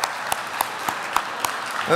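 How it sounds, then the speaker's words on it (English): Audience applause at a chamber of commerce community leadership awards evening in Portland: a steady bed of clapping with sharp individual claps standing out at a regular rhythm, moderately loud and close. "your applause will help attract everyone's attention"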